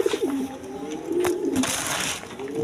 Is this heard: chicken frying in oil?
no